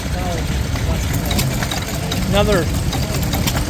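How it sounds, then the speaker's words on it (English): A Frisco marine engine, a small vintage boat engine shown at a classic engine rally, runs with a steady mechanical chugging under someone talking nearby. "It says it's a Frisco marine engine."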